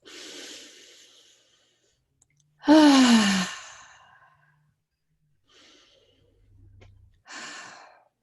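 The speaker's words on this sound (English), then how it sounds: "take a deep breath" A person takes a deep breath during a calming tapping exercise: a soft exhale, then one loud, close, drawn-out sigh, followed by quieter breaths and another audible exhale.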